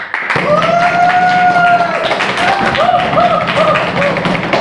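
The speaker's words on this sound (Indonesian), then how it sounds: "Tepuk tangan dulu dong." An audience claps hands at a motivational talk, a dense burst of many claps starting abruptly and continuing steadily, with a voice calling out over the applause.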